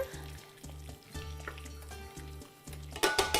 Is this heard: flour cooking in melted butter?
yes